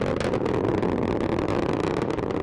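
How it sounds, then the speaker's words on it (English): Strap-on rocket boosters at full thrust during launch give a loud, continuous, dense roar with a steady rumble and no pauses. "Strap-on boosters look good in the full thrust mode."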